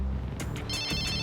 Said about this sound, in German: Das ist Emilios Handy.